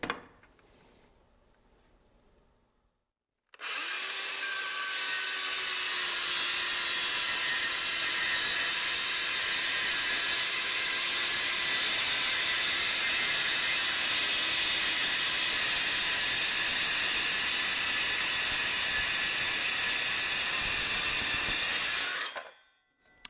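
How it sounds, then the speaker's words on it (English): Saw cutting straight through a vinyl and aluminum panel in one steady pass, a loud continuous whining rasp that starts abruptly after a short quiet lead-in and runs about nineteen seconds before stopping. "you're going to want to make your cut with your saw carefully and slowly"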